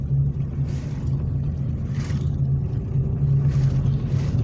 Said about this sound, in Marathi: या ठिकाणी आपल्याला येणाऱ्या जाणाऱ्या गाड्या दिसत आहेत